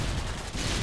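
Dense AK-47 fire in Modern Warfare 2 roars as one loud, continuous burst, close and harsh, under a second long.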